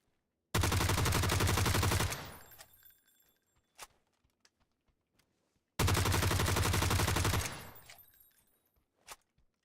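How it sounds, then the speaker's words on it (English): Two long sustained bursts from a PP-Bizon submachine gun in a video game, each a rapid, loud, buzzing stream of shots lasting over a second, followed by faint clicks and a few scattered shell-like clinks. "A PP Bison. That gun sounds like it'd be fun."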